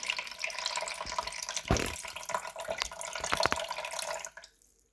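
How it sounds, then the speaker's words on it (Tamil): Water runs and trickles steadily from squeezed odiyal (palmyra root) flour into a bowl nearby, with a few splashy drips before it fades to silence. "புழிஞ்சு எடுக்க இந்த பாருங்கள் புழில அந்த தண்ணி அப்படியே வடிஞ்சு வரும்"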